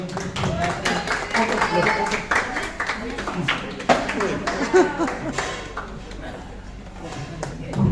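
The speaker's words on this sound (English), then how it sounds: "Let's give a huge round of applause to Tenzila as well" A round of applause from a crowd at a family achievement celebration, a thick steady patter of clapping that gradually thins, with people talking over and around it.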